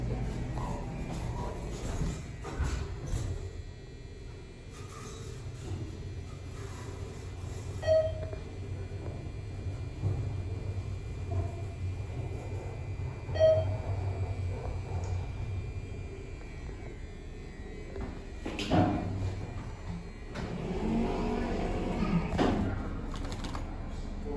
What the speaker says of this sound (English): This is a ThyssenKrupp elevator. It's a traction